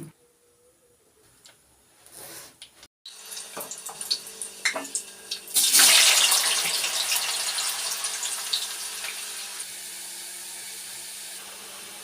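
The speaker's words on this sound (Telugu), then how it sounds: "సాల్ట్ వేసి నీట్గా కడుగుతుంది చూడండి" Water runs from a tap into a bowl of cut potatoes being washed with salt, starting with light handling clatter, then a steady loud gush of water with sloshing that gradually eases.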